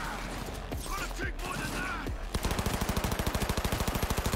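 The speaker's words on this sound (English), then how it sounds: "Good submachine gun." A submachine gun fires a rapid, evenly spaced burst of shots in the video game Cyberpunk 2077, loud and close, following a stretch of mechanical creaks and clatter.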